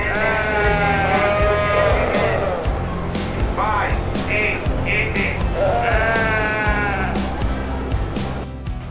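Several sheep at a livestock auction bleat repeatedly, some near and some farther off, over a busy background of crowd chatter and shuffling.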